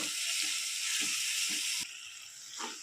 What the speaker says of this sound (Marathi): आणि याला एक 5 मिनिट आपण परतून घेऊया, जेणेकरून आपली ग्रेव्ही तयार होईल।